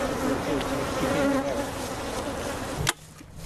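Honeybees being combined into one hive in a club yard make a close, loud, steady droning buzz with wavering pitch, which cuts off sharply after a thump near the end, leaving a fainter hum.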